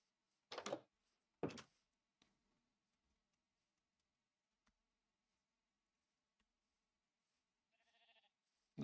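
In the Minecraft video game, a single short sheep bleat sounds faintly near the end of a mostly quiet stretch. A few louder clicks and thumps come earlier.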